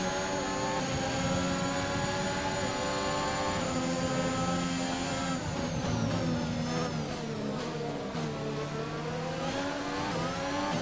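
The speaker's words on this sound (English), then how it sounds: "We've got a nice bit of gearbox whine in there underneath the engine noise" A Formula 1 car engine in the PC video game F1 2021 roars and revs continuously, shifting pitch up and down, with a high gearbox whine running underneath the engine note.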